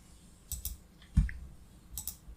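A computer mouse gives a few sharp, quiet clicks at close range, spaced irregularly in pairs against a faint room hiss, with no voices.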